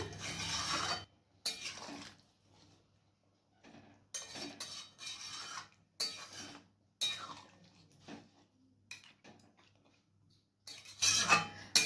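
Mutton being mixed with hot water in a pot: a spoon scrapes and clinks against the metal in short, separate bursts with quiet gaps between them. The sounds are close, and no one talks.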